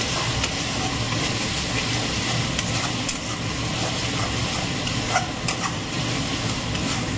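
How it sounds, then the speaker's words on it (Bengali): Spices with onion and garlic fry and get stirred in hot oil in a pan, giving a steady close sizzle and hiss with occasional scraping stirs throughout. "মশলাটাকে ভালো করে কষাচ্ছি, তেল ছাড়বে"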